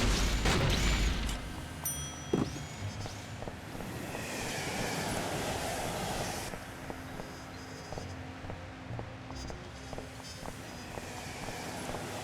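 A train rumbles past in the game Sam & Max Beyond Time and Space, a steady, moderately loud roar with rhythmic clatter that fades slightly toward the end.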